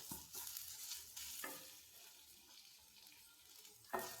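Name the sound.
stirring grated coconut frying in ghee in a pan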